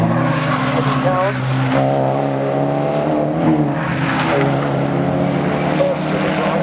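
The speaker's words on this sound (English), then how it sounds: "Now just coming by the number 69 Ferrari, the black Ferrari" A black Ferrari race car, number 69, passes on the Donington Park circuit, its engine a loud sustained roar with shifting tone across the whole stretch, heard at close range beneath a commentator talking.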